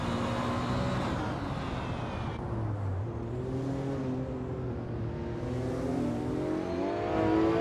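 Engines revving at a race start in a racing video game, including a classic 1987 Porsche 959, a dense layered whine that rises and shifts pitch steadily throughout.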